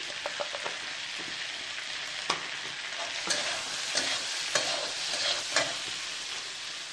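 Whole cinnamon, mace and cloves frying in a pan, a steady sizzle broken by a series of sharp crackles and pops, with no talking.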